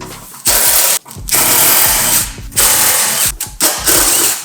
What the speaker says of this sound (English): Inner fender liner is coming off to expose what's underneath.